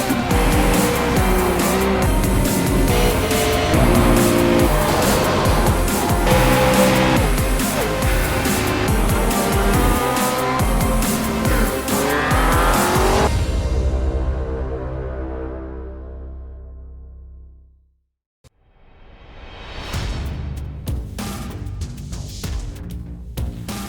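Race cars roar past at Talladega Superspeedway in a loud, sustained pack, the engine noise fading away into near silence before another car approaches and builds again.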